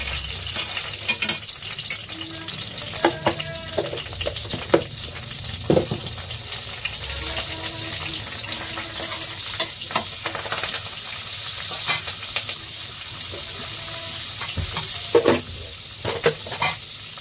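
Curry leaves and paneer frying in oil keep up a steady close sizzle for a long stretch, with scattered spatula scrapes and clicks from stirring and no voices.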